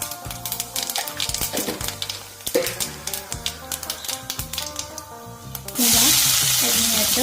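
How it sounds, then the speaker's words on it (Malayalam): Fennel seeds hit hot coconut oil in a kadai and break into a loud, steady sizzle near the end, after several seconds of background music with no frying audible. "ഇനി കുറച്ച് പെരിഞ്ചീരകം ഇട്ട് കൊടുക്കുന്നുണ്ട് കേട്ടോ"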